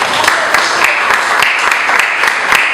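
A church congregation at a Holy Communion service bursts into steady, dense applause, a close wash of clapping with rhythmic peaks from individual hands and voices mixed in.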